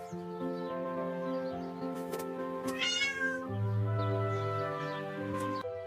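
A cat meows clearly and close by, one drawn-out, rising cry heard over a soft background of sustained music tones.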